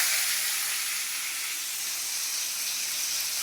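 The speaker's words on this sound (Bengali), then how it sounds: "এবার পেঁয়াজ দিয়ে দেবো।" Chopped onion hitting hot oil with panch phoron in a pan, giving a loud, steady, bright sizzle with constant hiss throughout and no voices.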